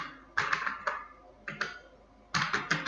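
Country names are typed on a computer keyboard in short bursts of quick clicking keystrokes, close and clear, separated by brief pauses.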